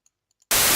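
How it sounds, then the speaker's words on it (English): A loud burst of white-noise static from an FPV drone sound effect cuts in abruptly after near silence with a few faint ticks, then holds steady. "static sound, which is just static of the drone itself."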